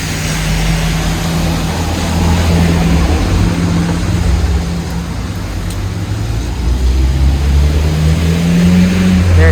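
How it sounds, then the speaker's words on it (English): A red Hong Kong double-decker bus drives past on a village road, its engine drone loud and close, swelling and fading with steady traffic rumble and no talking. "There's my favorite red bus, the Mongkok Rocket."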